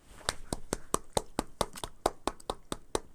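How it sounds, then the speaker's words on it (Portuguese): Sparse applause from a small group at a live Portuguese broadcast, a few pairs of hands producing distinct, uneven claps at a steady pace for about three seconds, fairly close, with no talking over them. "Palmas, nem vi as palmas."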